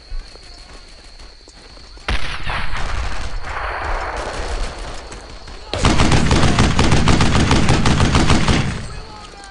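Dense gunfire in a WWII squad shooter, Brothers in Arms: Earned in Blood: rapid machine-gun bursts and rifle shots, loud and close, building from a sparse start into a sustained heavy volley, with battle shouting mixed underneath.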